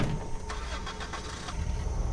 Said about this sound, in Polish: Ty wskoczysz na samochód, a ja nim podjadę